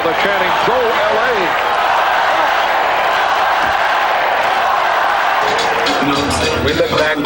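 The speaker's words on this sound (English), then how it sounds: "Tough crowd. They're chanting, "Go LA!"" Large arena crowd at a 1991 Lakers vs Trail Blazers basketball game, a loud continuous roar with rhythmic chanting and cheering throughout, commentator voices talking over it.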